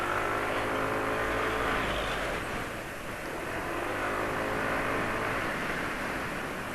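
A car engine idling at low RPM on Mesran Super oil, a smooth steady low rumble that swells and eases slightly, heard alone at moderate level.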